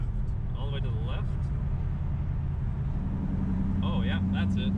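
Inside a 1000-horsepower Dodge Hellcat with its loud exhaust valves opened, a deep, continuous engine rumble drones beneath people talking.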